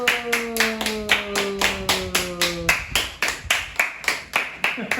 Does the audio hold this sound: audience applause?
yes